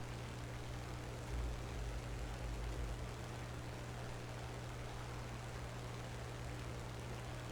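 Steady propeller-engine drone of a Spitfire fighter in the War Thunder flight game, a constant low hum with a brief swell near the start, heard alone without talk.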